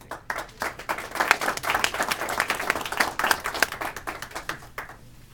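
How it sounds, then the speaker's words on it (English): Conference audience applauding, a dense patter of many hands clapping steadily for several seconds before fading out, with no talk over it. "another round of applause, by the way, for Frank Skartatos."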